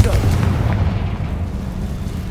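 A Confringo fire spell erupts in Hogwarts Legacy on PS5 with a heavy, rumbling booming blast that swells loudly at first and then rolls off into a lingering low roar.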